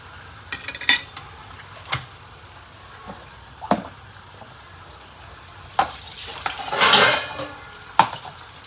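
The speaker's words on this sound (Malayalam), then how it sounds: "ഇങ്ങനെ മൂടി വയ്ക്കാം" A metal lid clatters onto a pot of chicken at close range, with scattered clinks of cookware and a louder rattling scrape near the end, in a quiet kitchen.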